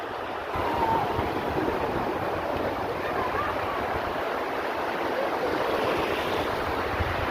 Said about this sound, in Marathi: तुम्ही बघू शकता माझ्या समुद्राचा लाटा